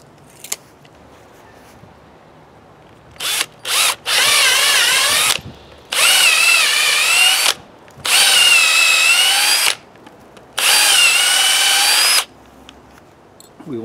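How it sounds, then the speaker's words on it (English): A power drill whirs in four long bursts with short pauses between, loud and close, its pitch wavering as it drills a hole into wood. "What I'm doing next is drilling a hole for the eyelet."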